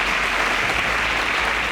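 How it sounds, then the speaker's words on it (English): A studio audience on a televised quiz show claps for a contestant after a correct answer, a loud, dense, continuous burst of many hands with a low rumble underneath. "A round of applause for Victor"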